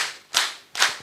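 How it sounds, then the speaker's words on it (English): Two sharp group claps a fraction of a second apart, a room full of people at a quality audit report launch clapping in unison, each burst loud and decaying quickly. "Let's clap for ourselves."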